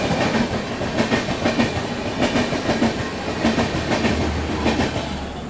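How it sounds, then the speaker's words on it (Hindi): A train rolls past on the neighbouring track outside Prayagraj, its wheels beating a steady, loud clickety-clack rhythm across the rail joints, with a low rumble running underneath throughout. "अभी देखो उस साइड से कोई ट्रेन भी क्रॉस हो रही है।"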